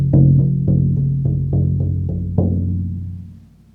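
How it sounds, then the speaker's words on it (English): A low hand drum is struck about eight times in a slow, even beat, each deep resonant boom ringing into the next before fading out, close and alone with no talk. "my drum, which sounds like this."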